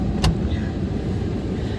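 A car drives along a road with a steady low rumble of engine and tyre noise inside the cabin, plus a brief sharp click near the start, with no talking.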